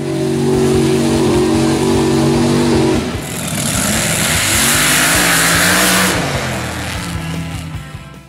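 Off-road 4x4 trucks at a mud drag race event, engines roaring loudly and revving up in long sustained pulls, one engine note climbing and falling as the vehicles power through mud, with no talk.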